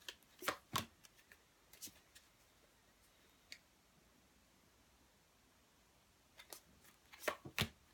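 Tarot cards are shuffled in a few soft, quick riffling bursts at the start and end, with quiet gaps between them, close by and faint.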